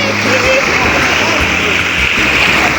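Sea washing at a Turkish shoreline where the water has receded, a steady loud rushing wash with a person talking over it.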